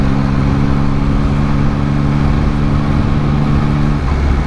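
A 2022 Yamaha MT-09 motorcycle runs loud and close while it is ridden up and down through the gears, its steady mid-pitched engine drone holding a continuous hum.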